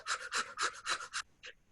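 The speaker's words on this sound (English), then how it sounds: "breathe kind of rapidly through that sensation" Quick, rhythmic panting breaths modelling the shallow breathing used through a labour contraction, about seven close, loud puffs in a steady run, then a short pause and one final breath.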